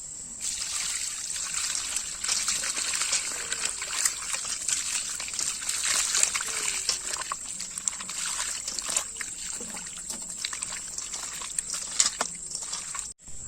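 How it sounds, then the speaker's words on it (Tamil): Raw chicken being rinsed under a running tap, a steady trickling stream of water with soft splashes and sloshing as the pieces are handled, continuous and close throughout. "இப்ப நம்ம சிக்கனை கழுவி எடுத்துக்கலாம்"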